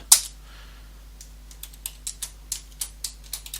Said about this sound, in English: So if I just type in while true